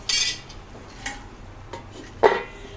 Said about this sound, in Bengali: আমি আবার একটু ঢাকা দিয়ে দিব